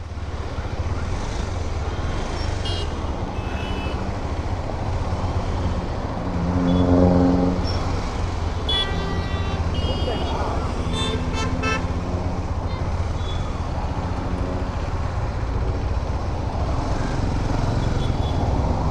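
Heavy road traffic on the way from Vaniyambadi to Bangalore, a continuous rumble of engines broken by repeated vehicle horns honking near and far, some short toots and a few longer blasts.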